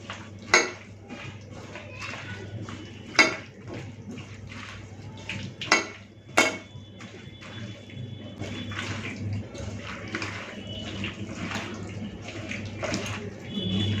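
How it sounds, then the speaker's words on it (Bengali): Small tengra fish are mixed by hand with mustard oil and tomato in a bowl, giving soft wet squelching and shuffling with several sharper knocks against the dish, close and moderately quiet, with no speech. "এরপরে হাত দিয়ে ভালো করে মেখে নেব।"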